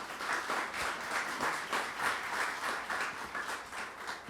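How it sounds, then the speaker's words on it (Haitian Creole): Audience applause at a talk, dense even clapping from a crowd sustained throughout at close, moderate loudness. "Encore sur vos applaudissements."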